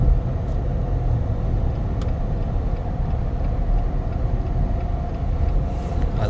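Engine and road noise from a 2023 Jeep Gladiator EcoDiesel while driving: a steady, dense low rumble with constant drone and no speech.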